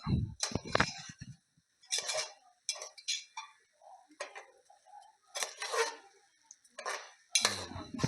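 A spoon scrapes and clinks against a pot while mutton curry is stirred in a home kitchen, giving sharp, irregular metallic taps and short scrapes separated by quiet gaps, close and fairly faint.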